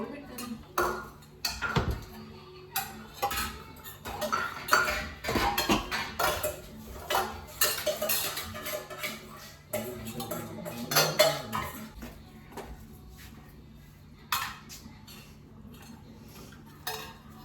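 A small child bangs and clatters steel pots, lids and vessels while pretending to cook, producing irregular bursts of metallic clanks and scrapes close by, with brief pauses and a few voices speaking in between.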